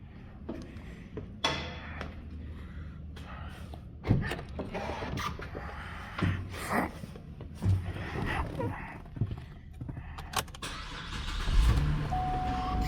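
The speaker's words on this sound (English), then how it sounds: "Let's start the car up, and so we can say for certain without making assumptions." A 2012 Cadillac CTS cranks and starts, then idles at a steady low rumble close by, broken up by a few clunks and taps, with no talk.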